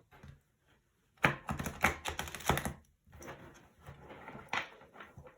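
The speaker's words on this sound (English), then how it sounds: "Let's get started with shuffling the cards." Tarot cards being shuffled by hand, heard as close, quick bursts of riffling and flicking with short pauses between, clumsy and uneven in rhythm.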